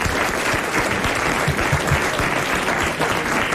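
Studio audience applause on a 1992 French TV show, a thick, even roar of clapping from a large crowd sustained throughout, close and loud with no talk over it.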